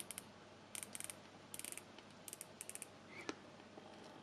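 A watch bezel ratcheting as it is turned, producing crisp tiny clicks in short rapid clusters, close but faint against a soft background hiss, with no voices.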